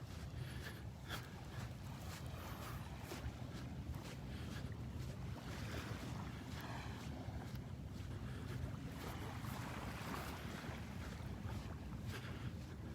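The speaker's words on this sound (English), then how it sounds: "The vast expansive beach." Wind buffets the microphone on a wide open beach at Barefoot Beach Preserve in Naples, Florida, with steady ocean surf rushing underneath throughout.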